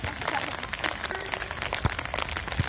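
Steady rain pattering down on an outdoor football practice, a dense, even hiss of drops with a few sharper nearby splashes, no voices standing out.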